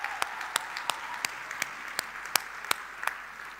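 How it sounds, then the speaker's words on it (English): An audience at a women-in-print event claps in a thin, scattered way, with distinct separate claps every fraction of a second rather than a full roar, continuing throughout at moderate loudness. "Ladies, give them a round of applause."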